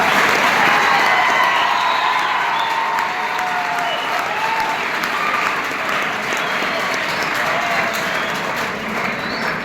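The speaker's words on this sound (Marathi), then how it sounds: "जोरदार टाळ्या होत्या" A crowd claps steadily for a speaker at a school event in Khed, producing dense, sustained applause that stays loud and even throughout with a faint murmur of voices underneath.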